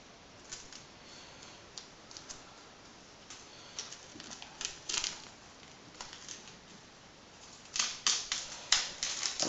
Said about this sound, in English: I'll have to remove these little bits of tape here.